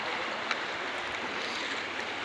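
Steady rushing water of a creek flows continuously, a broad wash of gurgling noise close by with no voices.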